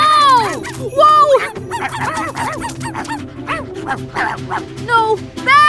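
Cartoon puppies yip and bark in quick, high-pitched bursts, close and loud, mixed with excited animated voices and whimpers across the scene.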